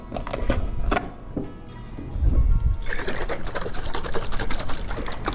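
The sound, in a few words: shaking a container of laundry ingredients in water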